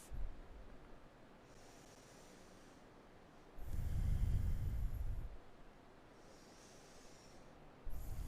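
Deep breathing during a yoga hold, slow, audible inhales and exhales, with one longer, stronger breath standing out against a quiet room and no talking.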